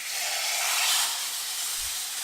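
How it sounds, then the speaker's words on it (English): Meat sears in a hot pan with butter and herbs, a loud, steady, close sizzling hiss that swells slightly and holds throughout, with a faint low bump near the end. "So I'm going to sear the meat, quick turn it around,"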